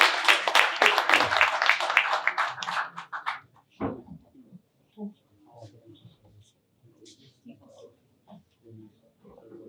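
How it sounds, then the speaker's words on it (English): Audience applause at a startup showcase summit, a burst of dense clapping that fades within about three seconds, followed by scattered small knocks and shuffling in a quieter room. "give them a big round of applause"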